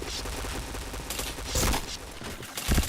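Rapid gunfire from the video game Point Blank, a dense continuous burst of shots with a few louder cracks standing out, played close and loud with no talking.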